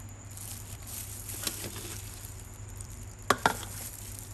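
A spoon lifting chilled butterfly-pea sago pudding out in pieces: mostly quiet handling over a faint hum, broken by a few soft scrapes and two sharp clicks near the end.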